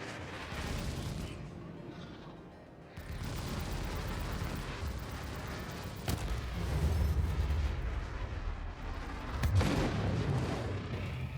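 A space turret in a video game fight fires steadily, a continuous rumbling barrage of shots and blasts with a few sharper cracks standing out, at moderate loudness throughout.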